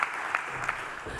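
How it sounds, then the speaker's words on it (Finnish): A small audience claps after a business presentation on modernising legacy systems. The applause is quiet and thin, with a few distinct individual claps standing out from a soft patter. "Jos ei muita kysymyksiä, niin eiköhän anneta vielä aplodit Jarmolle."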